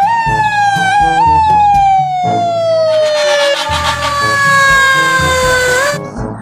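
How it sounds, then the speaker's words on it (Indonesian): A toy ambulance's electronic siren wails loudly and close, its pitch sliding in repeated rising and falling sweeps, with toy clicks and handling sounds beneath. "Yang ini ada mobil ambulans."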